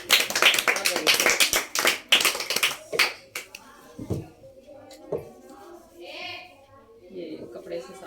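Children in a classroom clap for a classmate during a percentage lesson: a burst of sharp, fairly loud claps over the first three seconds, then a few scattered claps while a teacher and children talk.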